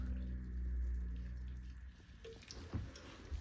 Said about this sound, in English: Giving this a very, very good water.